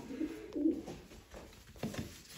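A female pigeon coos softly, a few low throaty burbles close by against a faint background hiss.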